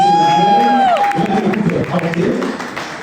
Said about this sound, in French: Encore des applaudissements